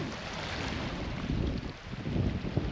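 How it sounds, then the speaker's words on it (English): Wind buffets the microphone at Flamingo Bay in Everglades National Park in rumbling, uneven gusts, loud and low, with no voices. "It's a little windy down here, so probably not the best audio in the world."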